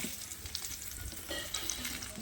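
Raw mango pieces poured into hot oil while making a sweet-sour-spicy mango pickle give a faint, soft sizzle and stirring scrapes, close and fairly quiet.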